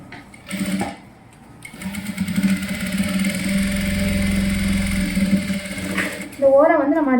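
A sewing machine runs on silk fabric for a child's skirt and blouse, its steady motor whir and rapid needle chatter lasting several seconds between short pauses, with someone talking at the end.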